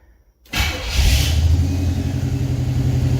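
A 1966 Pontiac Catalina wagon engine starts abruptly and revs up loudly, then settles into a steady, slightly high idle, close by.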